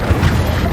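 An Incendio fire spell goes off in Hogwarts Legacy as a brief, loud, low rumbling burst of flame.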